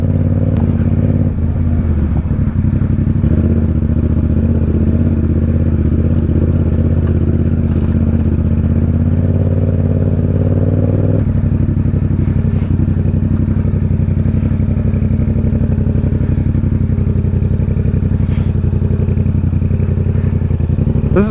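A motorcycle rides over a rough road on a trip through West Virginia, its engine droning loudly and continuously with clattering and thumps from the bumpy surface, no voices.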